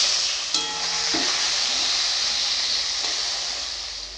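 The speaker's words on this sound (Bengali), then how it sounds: "তেল গরম হয়ে গেছে, মাছের মুড়োগুলো আমি ভেজে নেব" Fish heads frying in hot oil in a pan give a loud, steady sizzle from the start, with a brief clatter and ringing tone early on, then a continuous hiss that slowly eases.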